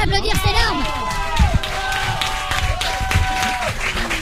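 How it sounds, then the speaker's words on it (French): Studio audience at a French radio show applauding and cheering, busy clapping mixed with shouts, whistles and overlapping voices. "on peut l'applaudir, c'est énorme."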